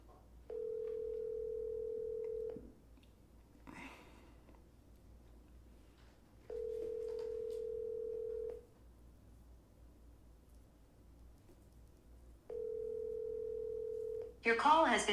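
An outgoing phone call rings back three times in long, even, steady tones separated by quiet gaps, followed by a brief automated voice at the end.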